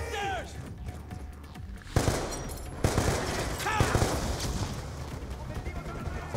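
Rapid bursts of gunfire from the video game Call of Duty Black Ops 2 crack out in sharp volleys, with heavier shots hitting around the two- and three-second marks, layered over in-game noise and a talking voice.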